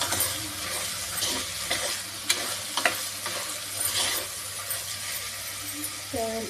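Rice and lentils stirred in a pot with water, a continuous wet scraping and swishing with faint sizzle, a few sharper clinks of the spoon against the pot, and a voice speaking briefly near the end.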